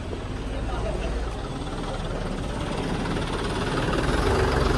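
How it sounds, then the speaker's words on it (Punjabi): A tractor pulling a trolley, its heavy diesel engine rumbling steadily nearby, the low throbbing drone growing slightly louder as it draws closer. "ਇੱਕ ਟਰਾਲੀ ਹੋਰ ਆ ਗਈ"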